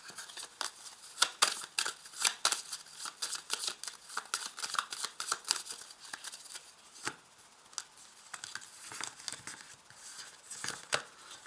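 Tarot cards are shuffled and drawn with rapid papery riffles and flicks, near and fairly quiet, in an irregular burst of crisp slaps and rustles.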